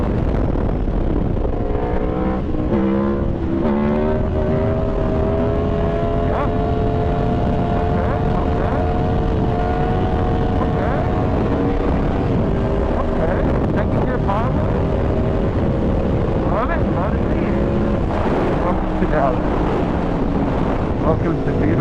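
An Aprilia Tuono V4 motorcycle rides with a steady engine drone whose pitch rises and falls through gear changes, buried under heavy, continuous wind buffeting on the microphone.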